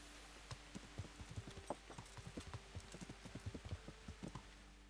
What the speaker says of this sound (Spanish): Estúpido caballo.